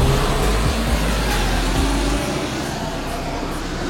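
Scarabée four-wheel-steer armored vehicle accelerating hard, a loud, close, dense engine and road roar that drops slightly midway and keeps going with no talk.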